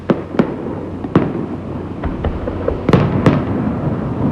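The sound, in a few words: demolition charges exploding in Aladdin hotel implosion, Las Vegas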